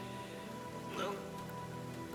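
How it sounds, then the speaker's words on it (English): Steady rain hisses through a scene of the Demon Slayer anime, Season 3 Episode 8, as a soft, even wash with a faint swell near the middle. "The rain looks amazing."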